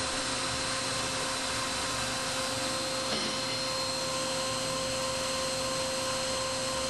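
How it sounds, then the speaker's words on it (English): A CNC router's engraving bit cuts a bevel into blue plastic on an automatic tool-change machine, giving a steady, dense machining whine and hum that holds constant throughout without speech. "On a fine operation, we have the engraving bit cutting a bevel on the inner square."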